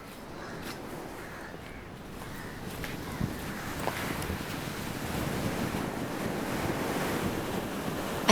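Sea waves wash steadily onto a beach in Goa, a broad continuous surf roar with wind buffeting the microphone and swelling slightly louder toward the end.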